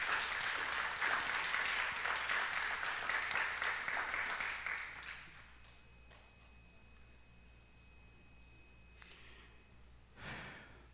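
A church congregation at a Sunday service claps loudly for about five seconds before the applause fades into quiet room tone, followed by a couple of soft rustles and a breathy noise.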